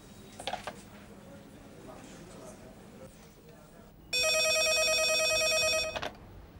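A telephone rings loudly and continuously for about two seconds near the end of a Turkish comedy film scene, following soft background sounds and brief voices.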